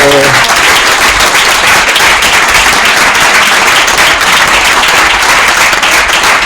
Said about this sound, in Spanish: yo creo que la podemos dar un aplauso maravilloso